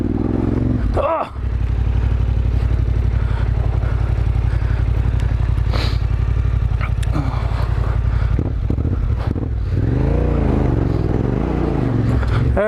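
A 2021 Yamaha Tenere 700 motorcycle rides off-road with a loud, continuous engine drone mixed with heavy wind buffeting at the helmet, while the rider talks and exclaims over it.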